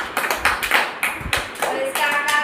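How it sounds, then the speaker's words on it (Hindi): Children clapping hands in a classroom activity, a short run of irregular claps with some voices mixed in, close and moderately loud. "आप तालियां बजाओ इसके लिए।"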